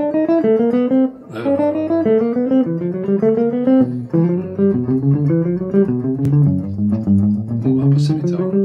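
A guitar plays a fast, steady stream of alternate-picked notes cycling across a few strings, bright and close, with no talking.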